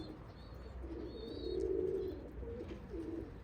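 Cooing of a pigeon or dove, heard during an outdoor bird hunt: a few soft, low, throaty coos in a short rising-and-falling phrase over faint background noise, moderately near.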